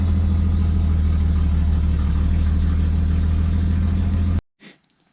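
A 1957 Chevy V8 runs loud and steady in neutral, a sustained close rumble that cuts off abruptly, followed by a brief faint thump.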